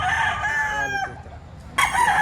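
A rooster crows at a chicken market in Padre Garcia, Batangas, one long drawn-out call fading near the middle, then a second loud crow bursts in sharply close by over steady market noise.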